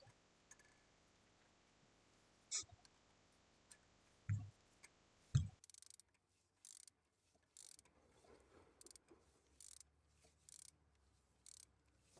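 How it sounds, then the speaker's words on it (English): A new spark plug is turned clockwise into an engine by hand tool, giving sparse faint ratcheting clicks and ticks, close and quiet with no talking. "Let's install this new spark plug"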